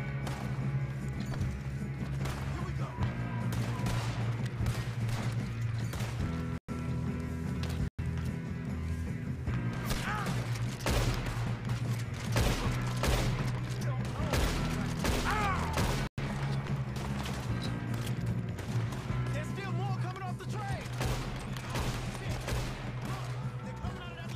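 Gunfire during a train robbery in Red Dead Redemption 2, with repeated sharp shots scattered through a long stretch under in-game music, hoofbeats and occasional speech.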